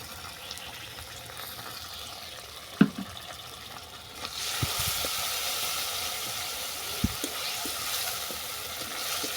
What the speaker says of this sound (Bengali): আবার দইটাকে ভালো করে কষিয়ে নেব মশলার সঙ্গে